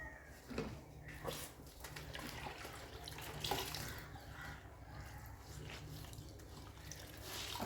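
Running water splashes steadily as fridge shelves are washed in soapy water, a continuous close hiss with a few louder bursts and clatters over a low hum.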